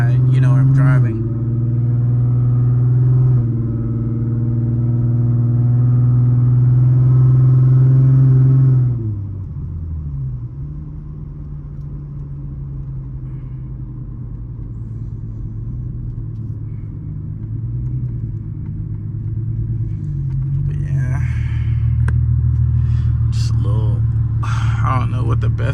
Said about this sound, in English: having like a super loud exhaust